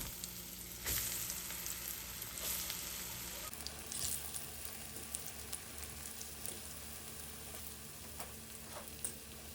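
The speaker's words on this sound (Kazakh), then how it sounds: "Қалған котлеттерді де дәл осылай тез-тез қуырып шығамыз." Chicken cutlets frying in oil, a continuous sizzling hiss with occasional crackles and brief clinks, fairly close.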